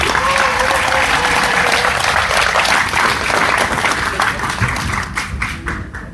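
Loud, sustained applause fills a large hall as an audience at a Democratic Party South Chungcheong provincial chapter lecture event stands and claps, a dense steady roar that thins slightly toward the end.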